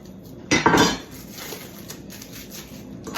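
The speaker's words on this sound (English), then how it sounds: "Going to want to take 1/4 of a cucumber sliced and put it in the bowl as well." Sliced cucumber drops into a bowl with a brief clattering clink of dish and cutlery near the start, then quiet faint handling noise.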